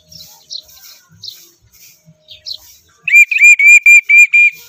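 A whistle blown during a pigeon funrace race lap, sounding as a quick series of about six sharp, loud pips in a steady rhythm after scattered faint bird chirps.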